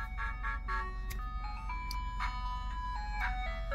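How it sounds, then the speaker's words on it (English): An ice cream truck's jingle plays a tinkling melody over the low rumble of its engine as it drives past nearby, steady and fairly loud throughout. "Ice cream truck."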